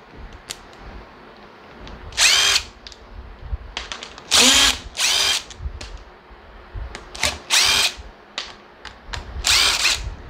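A power drill-driver unscrews case screws from a Stihl string trimmer. Short, whirring bursts of the motor come in irregular groups with quiet pauses between them, close and clear.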